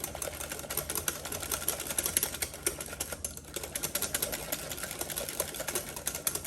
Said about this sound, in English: Now mix this up and this should get it all good.